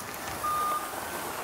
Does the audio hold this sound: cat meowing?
no